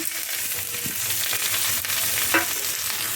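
Spice paste of ginger, garlic, chilli powder, turmeric, cumin and coriander with a little water sizzles and fries steadily in a pan, with a few stirring scrapes, loud and close with no talking.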